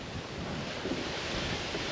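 Steady wind gusting across a secluded creek while out catching blueclaw crayfish, a constant broadband rush with no pauses, loud and close like wind buffeting a microphone, no voices heard.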